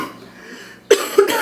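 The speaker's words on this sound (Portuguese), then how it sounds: "eu vou tentar cortar as partes que eu tô tossindo" Two short, sharp coughs from a woman, about a quarter second apart, follow a near-silent pause in an indoor setting.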